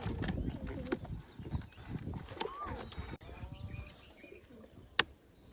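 Pigeons kept in a backyard loft for pigeon fancying, with soft cooing and rustling close by, a few sharp chirps and a clack, while a person talks over them at low overall volume.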